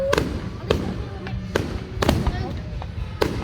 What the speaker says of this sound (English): The misty fireworks.